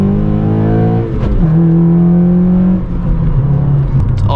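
A 9th-generation Honda Civic Si engine revs hard and close during a full-throttle pull, its droning tone climbing, dipping at a shift, then rising again loudly.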